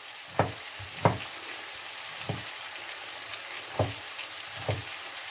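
Chopped tomatoes frying in a pan for a chicken and vegetable curry, a steady soft sizzle broken by several sharp stirring clinks at irregular intervals, close and fairly quiet.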